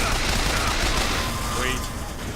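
Dense gunfire in Bioshock Infinite, a loud continuous rattle of rapid shots from a machine gun filling a short span, with a voice faintly under the din.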